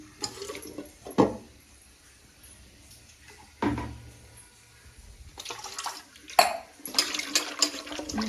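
Gurugu (gongura) leaves are rinsed by hand in water, giving a few separate bursts of close splashing and sloshing between quiet pauses, with a longer stretch of running, swishing water near the end.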